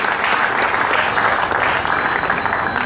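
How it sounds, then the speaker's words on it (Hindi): Loud, sustained audience applause at a cricket association annual function in Dhanbad, a dense steady clatter of many hands clapping close by, with no break throughout. "एक बार जोरदार ताली"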